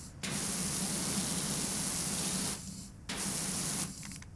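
Steady hiss of a pressure washer spraying in PowerWash Simulator 2 at an Art Deco house, two long continuous bursts separated by a brief pause.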